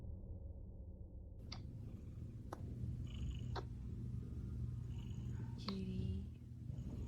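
A pet cat purrs steadily and close in a quiet indoor room, a low continuous rumble running through the clip with a few faint clicks and knocks on top.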